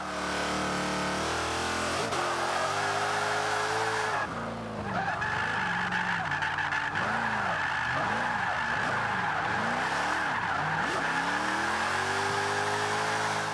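Jaguar XKR-S drifting in the racing game Forza Motorsport 5, its engine revving in repeated rising and falling swells under a continuous loud screech of sliding tyres.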